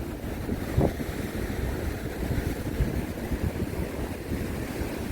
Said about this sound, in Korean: 자 이 파도가 여기에 쓰레기들도 예, 다 쓸어가고 있네요